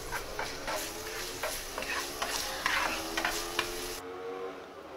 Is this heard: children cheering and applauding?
no